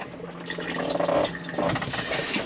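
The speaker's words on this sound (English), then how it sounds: "Everything's going to go into the cassette, and then you'd flush after use" An Adria Compact SP Plus caravan's cassette toilet flushes with a close, steady rush of running water that swells and briefly eases before surging again, with no talking.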